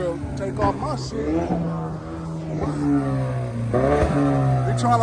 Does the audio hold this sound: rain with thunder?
no